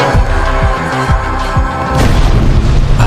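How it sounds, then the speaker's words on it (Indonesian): A run of deep, booming blasts, several heavy low thuds in a row, with a louder rumbling crash near the end and no talking. "dan kemudian ledakan pun harus terjadi"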